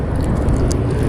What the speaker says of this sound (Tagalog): Yung mga naririnig nyo palang sasakyan sa expressway po dyan sa taas.